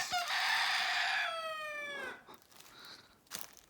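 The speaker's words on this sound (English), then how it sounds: "a very nice spot to sit and have some lunch amongst all the chickies and roosters and hens" A single rooster crow rings out near at hand among hens in Copper Canyon, northern Mexico, long and strained, fading into quiet outdoor background with a few faint rustles.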